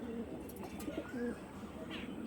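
Pigeons coo softly in a steady backdrop of overlapping calls, with a few chirps rising above the low murmuring; the birds are of a Kolkata breed and sound close by.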